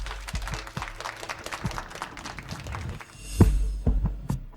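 Scattered applause from an audience welcoming contestants to their seats at a competition, sparse claps over low, throbbing thumps, with no talking.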